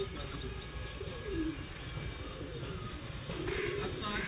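Sialkoti high flyer pigeons, with soft, low cooing and rustling close by, faint outdoor background noise throughout and no clear talk.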